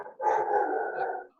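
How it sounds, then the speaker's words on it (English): A single dog lets out a brief howling bark indoors, a short drawn-out yowl heard alone and fairly faint. "Do you hear my dog?"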